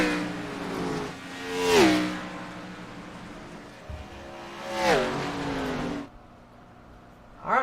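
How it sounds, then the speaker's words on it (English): Race cars on the Daytona track in the iRacing sim, engines droning steadily with two loud close pass-bys whose pitch sweeps down as they go by, then a quieter stretch before another car approaches at the end. "Still a bunch of race cars out on track."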